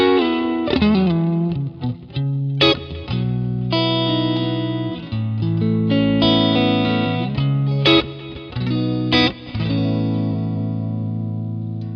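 Electric guitar chords and riffs played through a free Deluxe Reverb amp model, warm and slightly driven with reverb, continuous and loud, with sustained notes and strummed accents.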